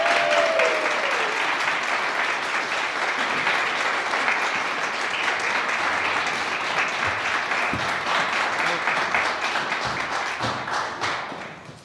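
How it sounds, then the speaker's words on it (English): Breakfast crowd at an Older Coloradans Act legislative celebration gives sustained, dense applause for two honorees, holding steady for several seconds before tapering off at the end. "please give them a huge round of applause"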